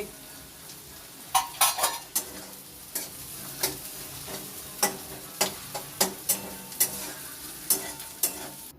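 Ingredients sautéing in a pan with garlic while a utensil stirs, scraping and clacking in irregular sharp knocks over a steady close sizzle, no voices.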